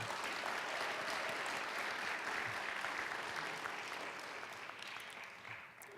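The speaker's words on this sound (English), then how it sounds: "If we can give them a round of applause, please." An audience at a military change-of-responsibility ceremony at West Point applauds the band with dense, steady clapping that holds for several seconds and fades slightly at the end.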